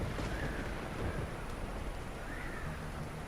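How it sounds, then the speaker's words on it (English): Storm ambience from the survival game Stranded: Alien Dawn, with steady rain hiss and low rumbling thunder rolling through the whole stretch, dense and constant rather than a single sharp crack. "3 fucking lightning strikes that hit exactly where my fucking survivors were"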